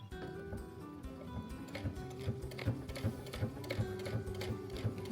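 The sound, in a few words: sewing machine stitching a tote bag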